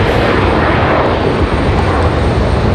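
Jet engines of a Sun Country airliner roar loud and steady at close range, a broad dense rush with no voices over it.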